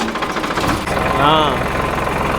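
A tractor engine runs steadily close by, a low rumbling drone throughout, with a voice speaking over it.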